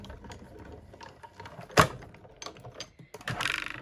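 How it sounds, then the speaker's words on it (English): A card inside a 3D embossing folder is cranked through a manual embossing machine, giving close, uneven mechanical creaks and grinding with one sharp clack midway and a rough rolling rasp at the end. "put the 3D embossing folder over the top and run that through the machine"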